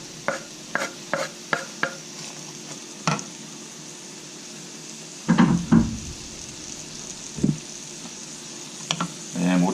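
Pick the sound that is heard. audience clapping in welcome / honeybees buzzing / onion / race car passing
onion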